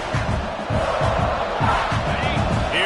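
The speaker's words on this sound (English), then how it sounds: "this crowd is turning it up a notch" A stadium crowd roars steadily through a Clemson versus South Carolina college football video game, a dense, loud wall of cheering with a rhythmic low chant pulsing underneath.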